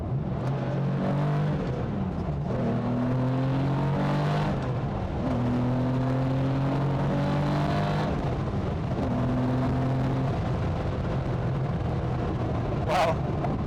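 A Gunther Werks Porsche 993 Coupe engine revs and accelerates hard through several gear changes, its rising drone cut by brief pauses between shifts, heard from inside the car.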